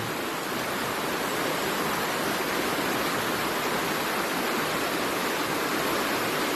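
Strong rushing water after a typhoon roars as a loud, continuous broadband torrent, close and unbroken with no other sounds.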